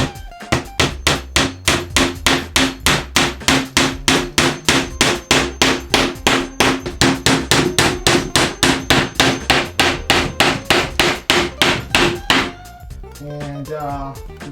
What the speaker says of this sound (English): you can just nail the nails in halfway just so they hold